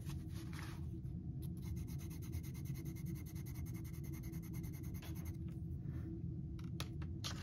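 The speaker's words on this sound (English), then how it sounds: "First, let's just test out the pencils" Steady scratchy rubbing of a medium charcoal pencil across paper, continuous strokes close up with a low hum underneath, no talking.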